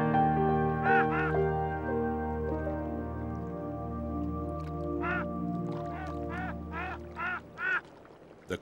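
Ducks quack in a marsh, a series of short nasal calls, some in quick pairs and runs, heard over a steady low droning hum, fairly close and clear.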